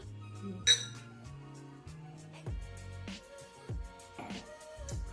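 Drinking glasses clink together in a toast, one bright, close chime followed by a few lighter taps, set against soft background music with no talking.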